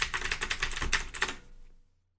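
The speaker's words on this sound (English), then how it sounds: "Keyboard, Razer Black Widow Ultimate, that's where all the clicking sounds are coming from," Rapid clicking keystrokes on a Razer BlackWidow Ultimate mechanical keyboard, a dense run of loud close-up clacks for about two seconds before stopping abruptly into silence.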